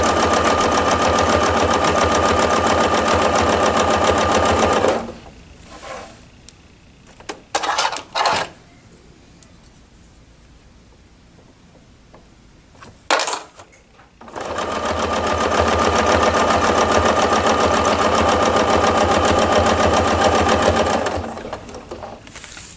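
Sewing machine stitching a quilted table runner with ruler work, a loud steady mechanical whir that runs about five seconds, pauses for a quieter stretch with brief bursts, then resumes for a long continuous run.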